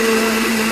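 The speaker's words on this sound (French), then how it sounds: "Maintenant, nous allons mixer le tout." A blender runs at full speed mixing a seasoned sauce, giving a loud, steady motor whine and hum that holds constant throughout this brief moment, with no voices.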